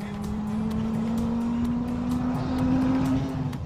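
A car's engine pulls hard through the gears on a test drive, a loud steady drone that climbs gradually in pitch, heard from inside the car, with no talk over it.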